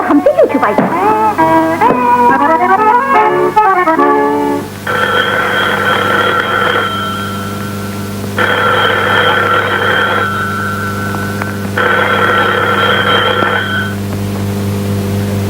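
Telephone ringing in a classic Pakistani film: after a short musical phrase come three separate bursts of ringing at a steady rhythm, moderately loud over a constant low hum.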